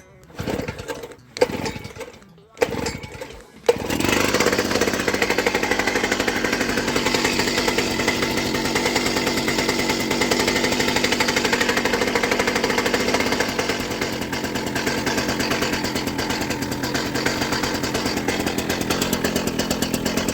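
A Wacker BS60-2 vibratory rammer, a two-stroke compactor, is pull-started after several tugs, then its engine runs loudly and steadily with a rapid pounding chatter, close by.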